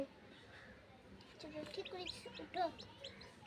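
Thin, high peeps from a newly hatched black chick, soft and scattered, mixed with background chatter and household noise.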